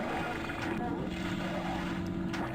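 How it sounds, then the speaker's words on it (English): Helicopters in the Spy Fox in Cheese Chase video game give a steady, low mechanical rotor drone that stays fairly quiet and continuous for a couple of seconds, with no talking over it. "Oh, alright, we got helicopters now."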